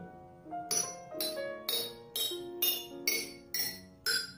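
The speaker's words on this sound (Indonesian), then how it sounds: "ketika kita memukul di botol yang paling banyak airnya, bunyi yang dihasilkan adalah paling rendah" Glass bottles filled with different amounts of water are struck one after another in a steady rhythm of eight ringing clinks, each note lingering and the pitches changing across the bottles.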